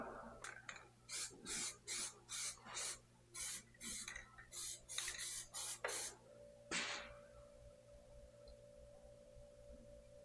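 A spray can applies a coat of paint in a series of short hissing bursts, about a dozen close sharp sprays, followed by a longer fading hiss and a faint tone, with no talk.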